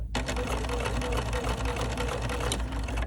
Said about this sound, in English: what we're gonna do is sew it from the tip down to the end